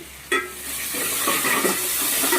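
Spices, curry leaves, coriander and ginger-garlic paste stirred in a hot pan, with a sharp scrape and then a steady close sizzle of frying under the stirring, no talking.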